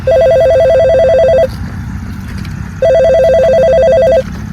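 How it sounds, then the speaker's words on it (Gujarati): A telephone ringing loudly and close by in two long electronic trill bursts with a pause between them, over low background noise and no talking. "તારે હું ફોન કરી જોઉં"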